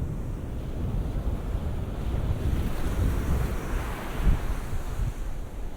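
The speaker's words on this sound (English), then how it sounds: "So now it's really windy over here." Strong wind buffets the microphone beside the ocean at Fort Point, a constant loud roaring rush with gusty swells and surf mixed in, and nobody talking.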